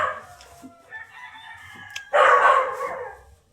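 Rooster crowing loudly nearby with other chickens clucking around it on a Filipino pig farm, a long bright crow rising after softer fowl calls, with no talking.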